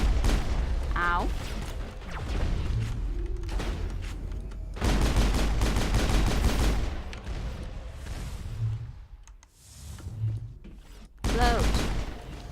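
Gunfire during a shootout in the video game Mass Effect: repeated bursts of loud shots and booms with quieter gaps between, while someone talks over it.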